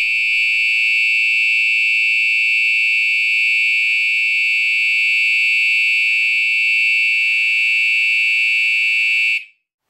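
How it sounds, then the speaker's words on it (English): A 12-volt buzzer on a wireless door entry alert sounds one loud, steady, piercing tone for about ten seconds, then cuts off abruptly. "a 10-second duration output of the 12-volt terminals powering this buzzer"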